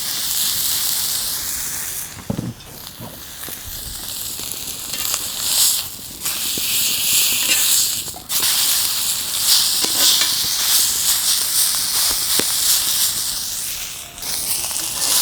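Steak sizzles loudly in a hot cast iron pan over a fierce fire, a continuous bright hiss that briefly dips and surges as the meat is flipped, heard up close with no talk.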